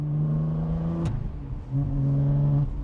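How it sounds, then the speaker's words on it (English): A 15-year-old Aston Martin Vantage V12 with a single-clutch gearbox revs loudly and close, its steady engine tone dropping sharply on a quick upshift with a brief pause before climbing again like a manual. "Even the sound of it when you shift is similar like a manual gearbox."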